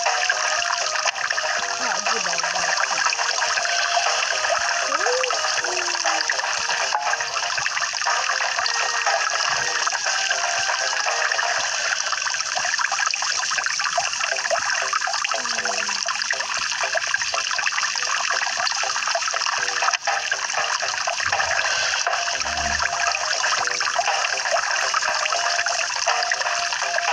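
Water running steadily for a thirsty dog, a continuous broad splashing stream that stays loud and even from start to finish, with a brief low thump near the end.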